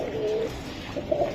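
A dark-stock Hungarian highflyer Budapest pigeon coos close by, two soft throaty coo phrases in quick succession over a low background hum.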